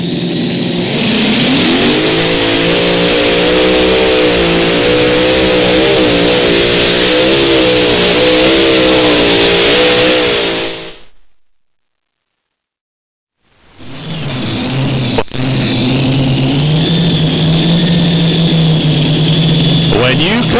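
A high-horsepower race engine revs hard at a dirt-track motorsport event in Benson, NC, loud and close, cutting out briefly before roaring back with rising pitch while an announcer talks over it.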